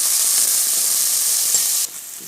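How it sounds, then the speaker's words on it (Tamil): Sliced onions sauté in a hot pan for pea kurma, giving off a loud, steady close-up sizzle that drops to a quieter hiss near the end. "இப்போ வெங்காயம் நல்லா வதங்க விட்டுடலாம்"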